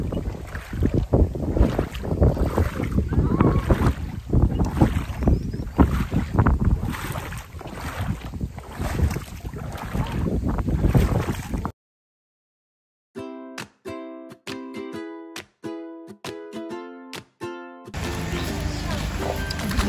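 Steady wind buffeting a microphone beside a river in Tanay, Rizal, a loud rushing roar with gusty surges for several seconds, then a brief drop to near silence and a short return of windy noise.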